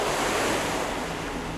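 Stormy sea with waves, a dense continuous roar of surf and wind, loud and close, with no voices.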